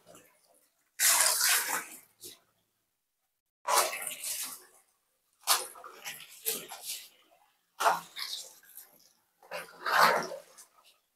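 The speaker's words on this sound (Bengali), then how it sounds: "কিছু কাপড় ছিল, ধুয়ে দিলাম।" Clothes washed by hand with water: five separate bursts of splashing and sloshing, each a second or two long, with silent pauses between, fairly near.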